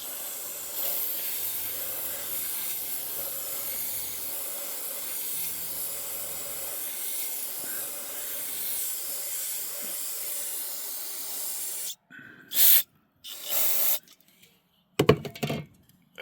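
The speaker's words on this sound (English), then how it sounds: "I'm going to do O'Reilly's brake cleaner. Just get some on the bottom." O'Reilly's brake cleaner sprayed onto the underside of a HMMWV diesel injection pump, a long, steady aerosol hiss lasting about twelve seconds, followed by a few short, louder bursts and clatters near the end.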